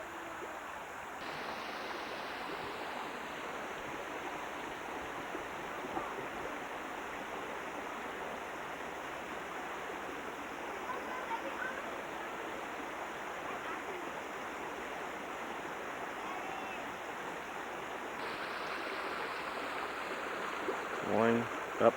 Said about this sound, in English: Going up through the waterfall.